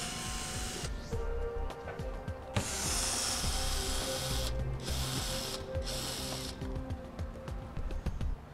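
Ratchet clicks and plastic fastener snaps come from wheel well fasteners being removed on a 2013 Chevrolet, with quick, close bursts of clicking and mechanical rattling separated by short pauses.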